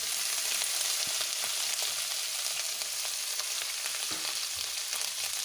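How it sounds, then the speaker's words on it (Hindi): Grated ginger and ground turmeric fry in oil in a pan, giving off a steady, close hiss of sizzling broken by occasional light scrapes of stirring. "मैंने यहाँ अदरक देखिए हल्का भून लिया है।"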